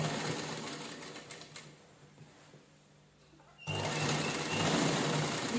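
A sewing machine stitching two layers of saree fabric together, running in a fast steady whir that slows and pauses partway, then starts again louder and steadier, close up with no talking.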